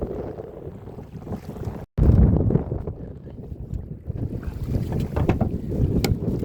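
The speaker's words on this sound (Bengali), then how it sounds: "প্রচণ্ড হাওয়া, এখন হাওয়া কমেনি" Strong wind buffets the microphone in heavy, continuous roaring gusts aboard a fishing boat in the Sundarbans, with water and engine rumble underneath.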